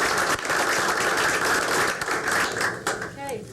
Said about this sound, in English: another round of applause for all the students.